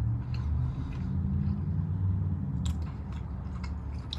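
Someone chews a McDonald's Big Mac with two beef patties, special sauce, lettuce, cheese, pickles and onions on a sesame seed bun, close and steady, with soft crunching over a low rumbling background.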